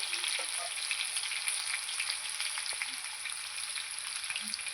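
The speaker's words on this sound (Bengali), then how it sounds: "আমি ভেজে নেবো লাল লাল করে আলু আর কাঁচকলা" Potatoes and raw banana fry in hot oil until reddened, giving a continuous close, bright sizzle with scattered crackles and a few soft utensil touches.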